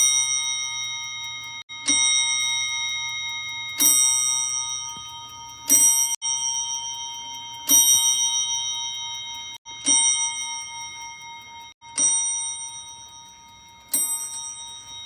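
A clock in a clock shop strikes a steady series of bright bell tones about every two seconds, each ringing out with a long shimmering decay over a faint low hum, with no voices over it.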